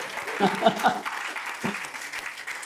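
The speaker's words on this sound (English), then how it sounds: "Give a round of applause to Ankur also." Applause from an audience at a podcast panel event, a loose patter of clapping heard close and somewhat uneven, with speech-like bursts briefly mixed in near the start.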